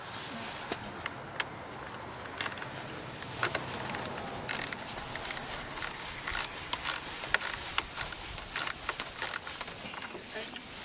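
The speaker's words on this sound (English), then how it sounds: "we're going to tighten the little screws" Small screws on a car battery tester are tightened by hand, producing faint, scattered clicks and light metallic ticks with a quiet background.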